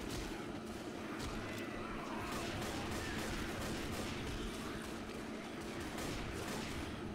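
Rifle gunfire in a video game rattles in rapid, dense bursts throughout, loud and continuous, with game action noise around it.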